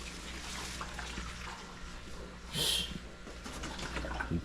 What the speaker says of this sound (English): So make sure I water my plants.